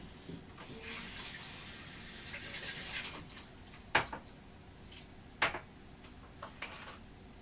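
A kitchen tap runs to get water, a bright hissing stream that lasts about two seconds before it is shut off, followed by a few sharp clinks and knocks of a glass nearby.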